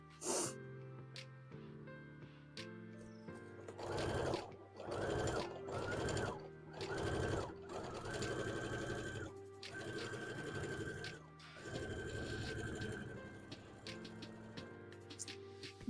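A sewing machine stitches hat pieces in several bursts. First comes a run of short, rhythmic stitching pulses, then longer continuous sewing runs. The sound is close and clear, with small clicks and pauses between the runs.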